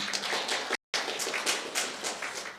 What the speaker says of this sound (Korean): 우리 또 박수 한번 치죠.